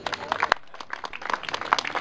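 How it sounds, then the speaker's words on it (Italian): Applause for the winner of a painting contest at an eel festival, scattered hand clapping of moderate density from a small outdoor audience, with a few sharp claps standing out. "Facciamo un nuovo applauso al vincitore."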